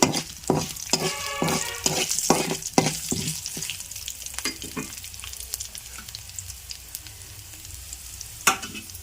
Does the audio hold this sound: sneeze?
no